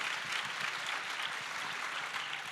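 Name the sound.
audience applause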